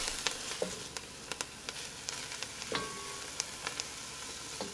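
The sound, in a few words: tomatoes and ingredients sauteing and being stirred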